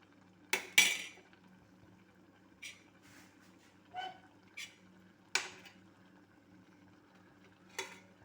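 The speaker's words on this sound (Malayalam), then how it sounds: "ഇനി ഇതിലേക്ക് ഞാൻ മീൻ പീസസ് ഓരോന്നായി ഇട്ട് കൊടുക്കുകയാണ്" Fish pieces for a karimeen curry are dropped one by one into a pan of boiling curry, a series of soft separate splashy knocks and clinks in a quiet kitchen.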